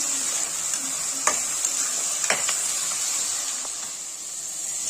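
Tomatoes and onions frying down in a pan for mutton kurma send up a constant bright hiss and sizzle, with a couple of sharp clinks from a stirring spoon.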